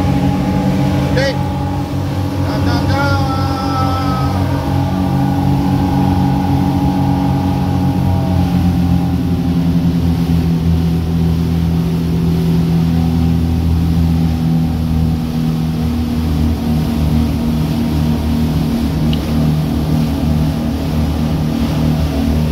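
A Triton 351 Express boat runs at full power, engines at 5,900 RPM. It makes a loud, steady, continuous roar with wind and water noise, and a voice speaks briefly over it.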